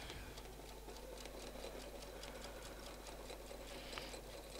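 A domestic sewing machine stitching quilted feathers along a template runs in a steady, fast needle patter, faint and continuous with no pauses.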